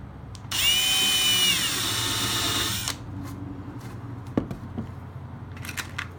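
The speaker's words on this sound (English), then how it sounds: "Drill a little bit more to this inside edge" A power drill bores into the wooden rail of an Alcort Super Sailfish sailboat. A high, close whine lasts about two seconds and drops in pitch as it bites, followed by quiet clicks and handling noises.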